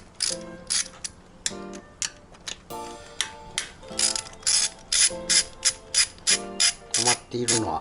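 A Yamaha TW225 motorcycle starter motor being taken apart: crisp, close mechanical ratcheting clicks in quick bursts, with short pauses between runs and no speech.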